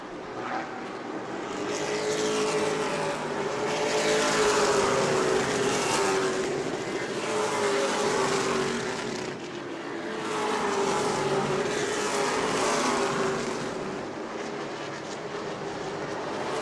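Pro late model stock cars race at New Smyrna Speedway, a pack of engines roaring past in rising and falling waves as they circle the track, loud and continuous with no voices.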